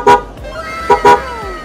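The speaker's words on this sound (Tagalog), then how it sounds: "Yung horn natin is hindi na stock." Aftermarket horn fitted to an FKM Venture 150 motorcycle gives three loud, short toots close by, the last two in quick succession.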